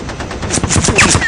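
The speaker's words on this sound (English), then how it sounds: "The top turret gunner Snowman fires" A B-17 top turret machine gun firing in a bomber game, a loud, close rapid burst of shots lasting just over a second.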